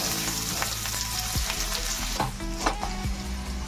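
Onions hitting a tablespoon of hot oil in a pan, a continuous bright sizzle with a low steady hum underneath and occasional clicks and clunks of a utensil.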